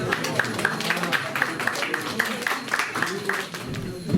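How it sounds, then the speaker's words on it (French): An audience at a Saint Nicolas celebration applauding the arrival of guests, steady rhythmic clapping in unison with crowd noise and voices mixed in. "vous pourrez les applaudir bien fort"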